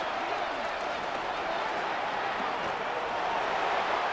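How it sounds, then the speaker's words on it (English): A stadium crowd at Arrowhead roars in the Madden NFL 26 football video game, a broad, steady wash of loud, unbroken noise that fills the whole stretch. "The Arrowhead crowd in full roar."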